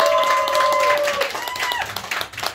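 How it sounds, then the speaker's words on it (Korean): Audience applause at a live band concert in a small club venue, a dense wash of clapping with cheering voices and tonal whistles over it, steady and loud before tapering off near the end. "박수를 이렇게 받아보다니"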